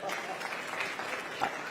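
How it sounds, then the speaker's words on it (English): Quiet, fairly distant clapping from an audience at a UNCF presidents' town hall, a soft even patter with voices faintly mixed in. "So I think that deserves a round of applause."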